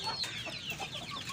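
Shamo chickens, a rooster and hen kept alongside Pakistani Aseel fowl, cluck in a run of short, close calls with bright upper tones over light background noise, no one speaking.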